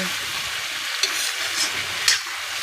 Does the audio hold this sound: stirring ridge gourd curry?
yes